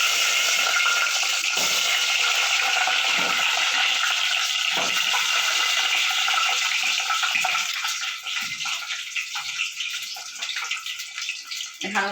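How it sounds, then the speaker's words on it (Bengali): Eggs sizzle loudly in hot oil in a cooking pot for a Bihari-style egg curry, a steady broad hiss that runs throughout and eases slightly toward the end, with no talking. "এই ডিমগুলো তেল গরম হয়ে গেছে, এই যে ছেড়ে দিলাম।"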